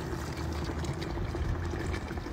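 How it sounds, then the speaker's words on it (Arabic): Water poured into a pot of meat for a red meat kabsa with red jareesh, a steady soft trickle and splash running continuously at low volume. "صب مويه الحين"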